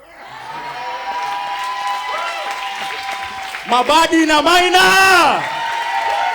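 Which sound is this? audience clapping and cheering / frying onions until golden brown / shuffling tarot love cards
audience clapping and cheering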